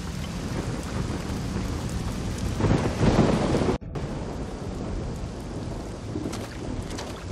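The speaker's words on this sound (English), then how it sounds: "In this storm?" Steady rain with a heavy thunderclap rolls through a storm in the video game Risen 2. The downpour hisses throughout, the thunder swells near the middle and cuts off abruptly, then the rain carries on alone.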